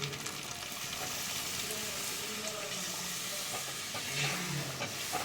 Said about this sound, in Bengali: আমি যে দুধের মধ্যে কেশর দিয়ে ভিজিয়ে রেখেছিলাম তো এবার দুধটা আমি দিয়ে দিচ্ছি